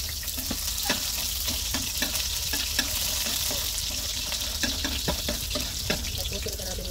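Onion and garlic frying in a hot wok, a steady close sizzle with scattered clicks and scrapes of stirring throughout, no talk over it.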